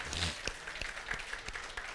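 Church congregation at an English service gives scattered, faint applause, individual claps audible as separate taps at a distance, with brief speech at the start.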